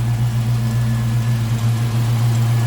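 A 1937 Ford Cabriolet street rod with an LT1 V8 and a serpentine belt system idles smoothly. Its low, even engine hum holds steady and close throughout, with no talking.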